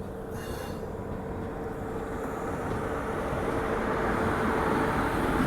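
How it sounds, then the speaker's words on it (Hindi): A Howrah–SMVT Bengaluru Humsafar AC superfast express passes close by, a loud, steady rumble of wheels and carriages that builds slightly and never lets up. "ये सामने से कोई ट्रेन तो आ रही है"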